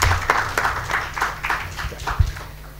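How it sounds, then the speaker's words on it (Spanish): At a university forum on higher education law, a small audience gives a professor a quiet, sparse round of clapping, fairly distant, with light rhythmic claps and some low background noise. "Por favor, un aplauso"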